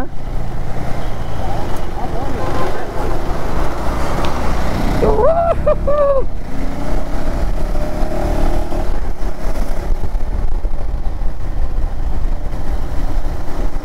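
Road traffic rumbles around a rider on a KTM Adventure 390 motorcycle, with a steady engine drone, wind rush and a brief horn blast midway, loud and close throughout.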